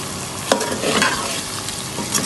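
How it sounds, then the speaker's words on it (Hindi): Beef and spices being stirred and fried for nihari, a steady close sizzle with scraping stirring strokes and a couple of spoon knocks on the pot, no talk. "अब इसको अच्छे से मसाले को हम 2 से 3 मिनट के लिए भूनेंगे,"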